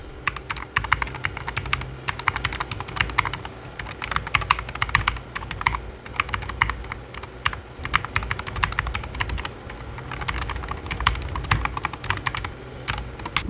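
Typing on an AKKO fun60 magnetic keyboard, a quiet model: continuous rapid clacky keystrokes in irregular bursts, close-miked and fairly soft, with no talking.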